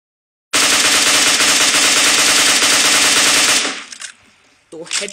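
A loud, close burst of sustained automatic fire in PUBG Mobile during a headshot kill, starting abruptly after a moment of silence, then cutting off into faint rustling and a brief final noise.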